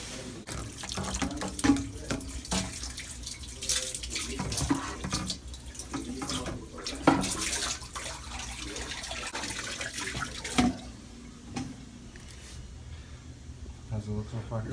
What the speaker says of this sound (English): Filling up the tank as we speak with some water